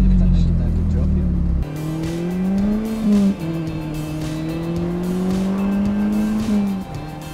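A Mazda MX5 ND on a test drive, its engine droning at low steady revs with gentle pitch shifts as it cruises, heard close from inside the car with people talking over it.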